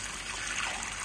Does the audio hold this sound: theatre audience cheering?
no